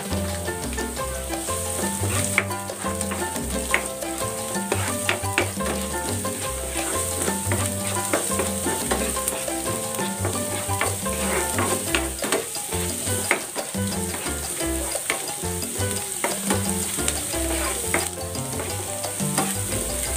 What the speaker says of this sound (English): Next, ilagay natin ang sibuyas.